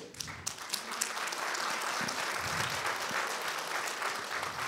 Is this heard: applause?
yes